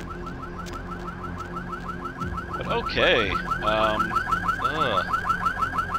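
A car alarm in the video game Vampire the Masquerade wails continuously in a loud repeating cycle of rising and falling tones, with someone briefly speaking over it.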